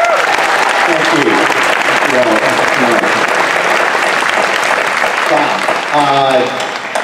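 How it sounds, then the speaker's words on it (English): Sustained audience applause at a Star Trek culture and technology event, loud and dense throughout with a few voices calling out over it, fading slightly at the end. "Give it up for the love of Spock."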